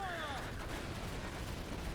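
Cannon fire from a pirate ship's bow guns in Assassin's Creed Black Flag, a dense rumbling barrage of blasts running through the whole stretch, loud and continuous, with a whistling sweep at the start.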